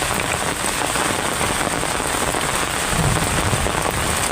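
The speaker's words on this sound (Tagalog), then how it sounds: "lakas ng ulan yan oh" A loud, dense downpour drums on a surface, a constant roaring patter with no voices.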